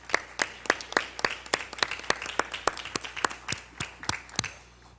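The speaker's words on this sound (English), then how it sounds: "Let's give Mr. Wallace a round of applause that he can hear on TV" Sparse applause at a board of education meeting in a high school, a small group clapping in distinct, fairly close claps of uneven rhythm for about five seconds, with no talk over it.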